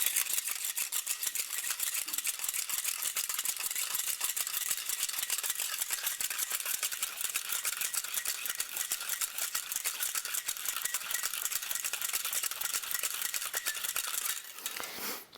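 A cocktail shaker holding a wire whisk ball is dry shaken hard for a Ramos Gin Fizz, giving a fast, continuous metallic rattle that runs unbroken for about fourteen seconds and then stops.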